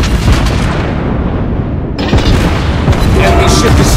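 Heavy naval guns boom in a warship battle video game, with loud, repeated explosive blasts and impacts hitting an enemy ship, dense and continuous, overlaid by game voice callouts.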